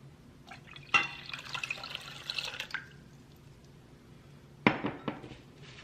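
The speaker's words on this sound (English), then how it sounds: "you want your pot to put your water in" Water splashes into a metal pot in a short pour for sweet tea, followed by a second brief splash and clink, close and fairly quiet.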